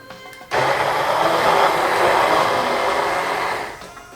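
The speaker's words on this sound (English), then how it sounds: "you can use any blender you have at home." A home blender whirring through balsamic vinaigrette dressing, switching on abruptly with a loud steady roar that holds for about three seconds before winding down.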